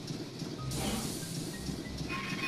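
Chuffy the train idles at the ice train station in the video game Banjo-Tooie, giving a steady mechanical rumble and hiss. A brief louder surge comes partway through, and a faint whistle-like tone rises near the end.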